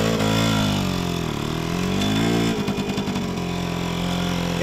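A 1972 Suzuki RV90 motorcycle ridden on a freezing cold day, its small engine droning loud and close with pitch swells as the throttle rises and drops, then a brief choppy burble before steadying.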